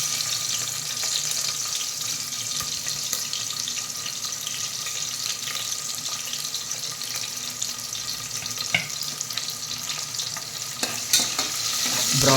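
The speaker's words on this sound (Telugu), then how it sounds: "ఇప్పుడు నేను ఉల్లిగడ్డలు వేస్తున్నానండి" Onions for mutton curry fry in a pan with a dense, continuous sizzle close by. Scraping stir noises and a watery, tap-like wash run through it, and no voice is heard.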